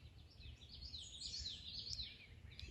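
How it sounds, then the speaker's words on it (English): Common yellowthroat warbler singing outdoors, faint high rhythmic chirping phrases repeating over low wind rumble, distant and continuous with no talk. "That's the sound of a common yellowthroat"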